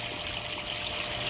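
Water steadily running and trickling into an above-ground pool during refilling, a continuous soft hiss and splash with no voices.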